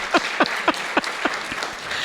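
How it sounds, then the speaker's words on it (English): A round of applause at a Juneteenth community event, heard as scattered, sparse clapping of a few distinct hand claps spaced across two seconds, fairly close and moderately loud over a low room background. "Can we give her a round of applause?"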